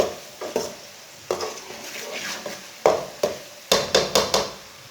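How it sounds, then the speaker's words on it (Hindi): Tomatoes frying with onion and garlic in a pan for a chana dal and spinach dish, stirred with a metal spoon that scrapes and clinks in uneven bursts, with a quiet sizzle underneath and no talking. "टमाटर को भी 2 मिनट तक भून लिया"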